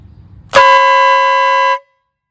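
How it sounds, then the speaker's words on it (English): A toy train whistle blown outdoors gives one loud, bright, steady blast lasting just over a second before cutting off, after faint background rustle. "That's a train whistle."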